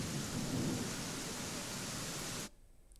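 Heavy rain from a thunderstorm in Davangere, Karnataka roars as a dense, steady wash of noise with low rumbling, then cuts off abruptly near the end, leaving faint background.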